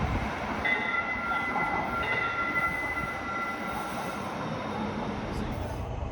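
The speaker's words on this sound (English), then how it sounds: "This would be the last train of our journey, taking us all the way out to Hillsborough" Portland MAX light rail train rolling along the track, a steady close rumble of wheels and car body with faint high tonal whines, continuous throughout with no voices.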